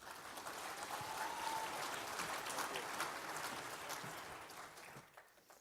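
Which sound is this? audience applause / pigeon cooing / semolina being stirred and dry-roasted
audience applause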